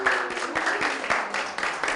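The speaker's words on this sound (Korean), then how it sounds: "수고해준 우리 세 분에게도 다시 한번 큰 박수 주시면" A studio audience at a televised magic and mentalism lecture claps in a steady, dense burst of applause, moderately close and sustained throughout.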